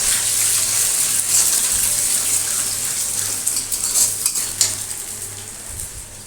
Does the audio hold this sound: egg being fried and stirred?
yes